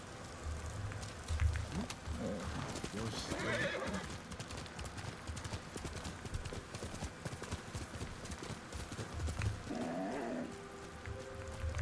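Horse in the video game Ghost of Tsushima, with steady hoofbeats running throughout and a couple of whinnies, moderately loud against game ambience.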